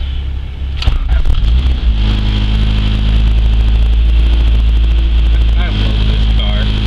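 A Honda Civic race car, sitting a month without battery or computer, cranks briefly, fires, then settles into a loud, steady idle with a low rumbling drone close to the listener.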